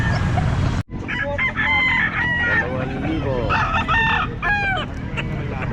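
Roosters crowing repeatedly and chickens clucking at a busy pet market in Baliuag, with several birds calling over each other against a loud, dense background of market noise.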